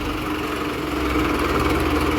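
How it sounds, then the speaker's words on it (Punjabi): A tractor engine being brought out to the fields idles close by in a steady, unbroken chugging drone. "ਤੇ ਹੁਣ ਕੱਢਦੇ ਆ ਬਾਹਰ ਟਰੈਕਟਰ ਤੇ ਖੇਤ ਚੱਲਦੇ ਆ"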